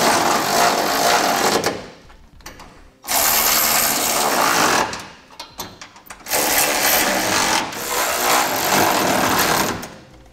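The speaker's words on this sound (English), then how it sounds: "Now we're gonna go through and snug up our hardware here." Power tool driving and snugging the mounting bolts of a Curt trailer hitch receiver on a 2016 Chevrolet Colorado, loud and close in three long whirring bursts separated by short pauses.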